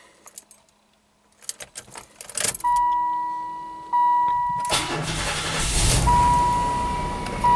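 A Silhouette minivan gets a cold start: keys jangle, then a steady electronic chime sounds, the starter cranks and the engine catches into a loud, steady idle up close while the chime returns.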